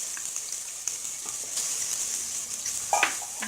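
Spices with red chili powder frying and being stirred in a pan for murgh musallam: a steady, hissing sizzle with faint clinks and scrapes of stirring, alone and fairly quiet.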